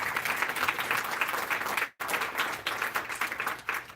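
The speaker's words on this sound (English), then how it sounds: "can I get some applause on that?" Town hall audience in New London, New Hampshire breaks into applause, a dense, lively roar of many hands clapping, close and loud, with a brief cut in the middle.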